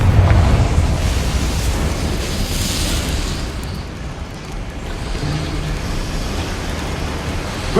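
The Confringo blasting spell in Hogwarts Legacy, heard as a loud fiery burst at the start that fades into a long roaring rumble, then rises again slightly toward the end.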